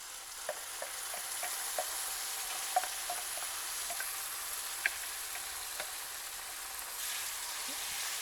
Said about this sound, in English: Fry off the curry mix for about roughly a couple of minutes